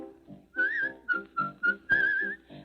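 A bright whistled melody in short phrases, close and clear, with sung voices beneath it in a steady rhythm.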